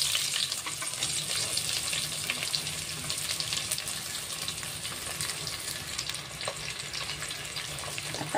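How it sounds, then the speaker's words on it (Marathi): Long-sliced onions frying in a pan with whole spices, a continuous bright sizzle with occasional stirring scrapes, close and steady throughout with no voices. "आता कांदा ना आपल्याला छान गुलाबी होईपर्यंत परतून घ्यायचा आहे."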